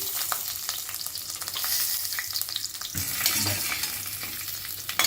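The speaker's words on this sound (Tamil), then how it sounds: "முந்திரி பருப்பை மாத்திரம் லேசாக வறுத்துட்டு எடுத்து வச்சிடலாம்" Cashew nuts fry gently with spices in a pan for a biryani-style rice dish, giving a steady close sizzle with stirring scrapes throughout and no talk.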